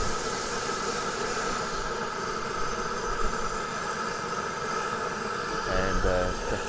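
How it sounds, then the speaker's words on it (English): A South African Railways Garratt steam locomotive stands idle, giving off a steady, dense hissing and humming rumble with faint tonal whines, continuous and moderately close, while a voice talks over it. "Wonderful Garrett from the South African Railways, just sitting here,"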